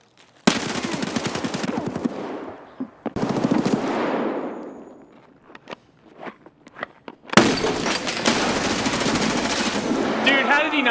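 Automatic gunfire in Escape From Tarkov: loud, close bursts of rapid rattling shots, one long burst, a second trailing off, scattered single cracks, then another sustained barrage.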